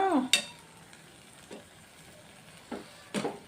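Soft tomatoes are mashed in a pan of tomato egg curry, giving a few scattered scraping and squelching knocks over a low sizzle, fairly quiet and unhurried.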